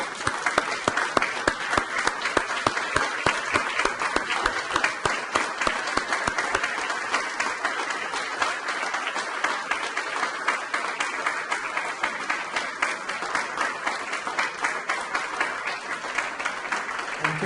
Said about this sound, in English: one more round of applause for these gentlemen for just amazing above and beyond